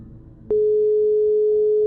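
A steady, loud phone ringing tone from the video game Run Before He Knows sounds alone as one continuous unbroken pitch after a brief click.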